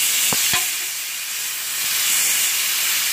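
Steak sizzling on a grill just after being flipped, a loud, continuous bright hiss, with two quick knocks near the start.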